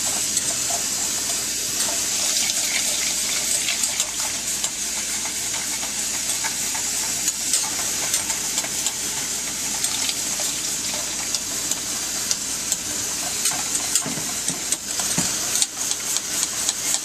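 Thick sauce of warmed half and half being stirred continuously in a double boiler, a soft steady hiss and bubbling with faint scraping, close and even throughout with no talking.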